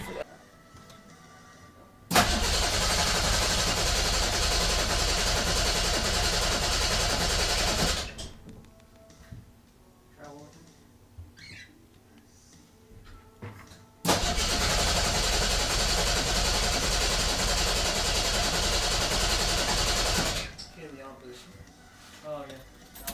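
Datsun 260Z cranking and catching twice, each time running loud and close for several seconds before cutting off, with quieter gaps and some talking between runs.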